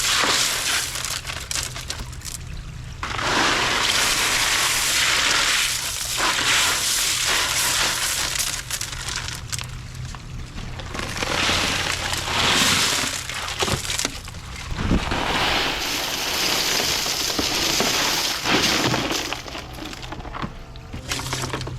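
Water gushing and splashing over large rocks and pea gravel in a bog build, a loud continuous rushing wash that surges and eases in waves.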